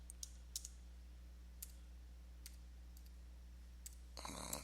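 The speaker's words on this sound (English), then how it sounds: "I'm typing something real quick" Sparse, soft clicks of typing on a computer keyboard over a low steady hum, a few isolated keystrokes spread out, then a brief burst of faint noise near the end.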